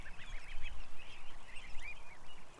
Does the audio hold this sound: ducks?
yes